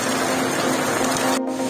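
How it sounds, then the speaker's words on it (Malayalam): Heavy unexpected monsoon rain falls in a steady dense hiss, a brief cut near the end. "അൺഎക്സ്പെക്റ്റഡ് മഴയാണ് കേട്ടോ നാട്ടില്"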